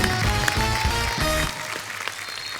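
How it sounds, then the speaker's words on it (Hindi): Applause at a Hindi comedy talk show welcoming Ajay Devgn and Abhishek, heard as brief loud clapping that is mixed with music for about a second and a half before it thins out. "जोरदार तालियां एक बार अजय सर और अभिषेक सर के लिए"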